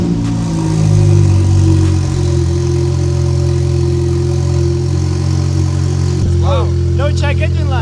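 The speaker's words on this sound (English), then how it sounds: "we're gonna start it like this and see what it sounds like" A MK8.5 GTI fitted with a catless downpipe idles close by with a loud, deep steady drone, a slight rise early on; near the end the engine note drops and chirpy whistling sounds take over.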